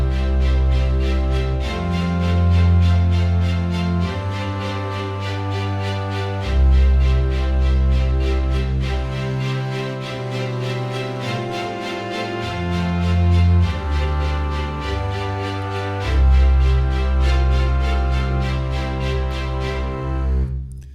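An orchestral accompaniment plays back with sustained strings, deep bass notes and trombone chords moving through slow, steady harmonic changes, loud and continuous with no piano and no voices.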